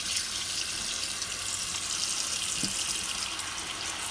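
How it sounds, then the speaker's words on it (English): Running tap water pours steadily into a bowl of potatoes, a continuous splashing hiss with no voices. "we're going to fill the bowl up with water until it covers the potatoes"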